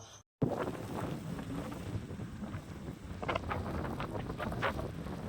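Sea wind on Karaikal beach blowing across the sand, a continuous rushing hiss with gusty swells, loud and close to the microphone, after a brief cut at the start.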